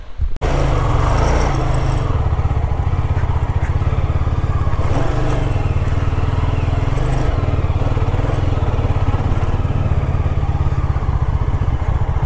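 A motorcycle engine running nearby, a loud, steady throbbing drone that holds for the whole stretch, with faint clatter and background voices.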